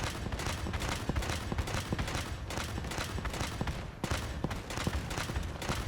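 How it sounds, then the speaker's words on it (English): A perk-boosted grenade launcher fires in a shooter video game, producing a relentless stream of loud, punchy reports and blasts that overlap into a dense barrage, with brief dips between volleys. "Let's check it out for the grenade launcher"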